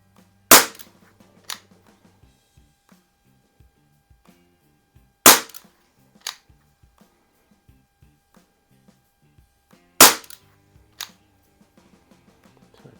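CO2 air pistol fires three sharp, loud shots several seconds apart, each followed about a second later by a fainter crack of the pellet striking the target, with quiet in between.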